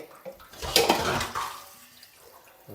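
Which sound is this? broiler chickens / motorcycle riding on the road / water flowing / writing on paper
water flowing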